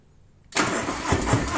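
A Harley-Davidson FXDR 114 motorcycle engine cranks and catches after a short quiet moment, then settles into a loud, steady running rumble close by.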